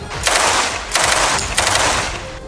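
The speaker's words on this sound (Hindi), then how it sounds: "इसमें गोलानी ब्रिगेड के लड़ाके दूर से एक इमारत में छिपे लड़ाकों पर फायरिंग करते नजर आए।" Israeli Golani Brigade soldiers fire from a distance at a building, producing loud bursts of automatic gunfire, three rapid volleys within a few seconds.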